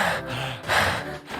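Two people pant heavily, out of breath after trying to lift someone, with close, loud gasping breaths rising and falling in a few quick cycles.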